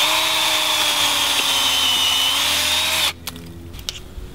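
A 5/16 inch bit drills a tap hole into a maple tree, a steady loud whine with a humming motor tone for about three seconds before cutting off abruptly, leaving faint clicks and handling noise.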